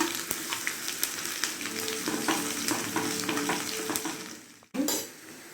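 Onions sizzle and crackle in hot oil with cumin and mustard seeds, a loud continuous frying hiss with light stirring scrapes, cut off briefly before resuming.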